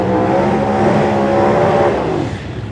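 Turbocharged and supercharged drag racing cars at Tulsa Raceway Park rev hard and close in a loud, continuous, rough engine roar that eases off slightly at the end.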